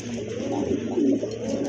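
A female red indigo pigeon gives low, soft, rolling coos, close by and fairly faint, over a steady background hum with no talking.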